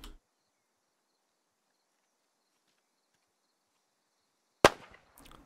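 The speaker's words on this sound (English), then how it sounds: "Clay J throwing a grenade here. More frags." Grenade exploding in the military shooter Squad, a single sharp blast out of near silence, fairly distant, trailing off into a brief rumble and faint debris.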